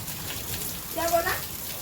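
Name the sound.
water spraying and splashing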